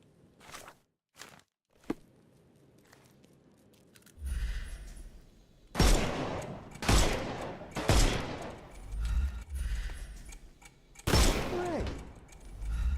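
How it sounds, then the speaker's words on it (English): Gunfire aimed at enemy armor in the Sherlock Holmes: Chapter One video game, a series of loud broadband shots and bursts spaced through the second half, preceded by sparse quieter clicks and impacts, with no talk. "Shoot off their armor."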